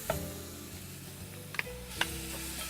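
Garlic sizzling in a hot pan, a soft steady frying hiss with a few light clinks of a utensil stirring, fairly quiet and without voices.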